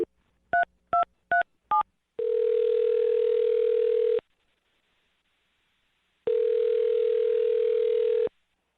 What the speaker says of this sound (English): dial her phone number right now, get her on the phone